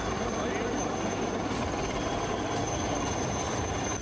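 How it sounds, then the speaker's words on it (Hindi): An army rescue helicopter flies over a flooded river, its rotor and engine giving a steady, unbroken roar from start to finish. "इसके बाद सेना ने हेलीकॉप्टर से ऑपरेशन चलाया।"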